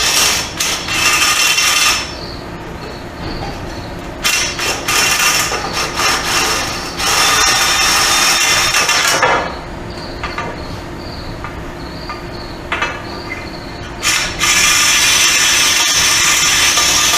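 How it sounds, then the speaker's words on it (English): A brake cylinder hone works inside a bore on an Oliver 565 plow part, a loud harsh grinding whir running in long stretches broken by short pauses and restarts. "It's a brake cylinder hone. It'll get down there a little ways."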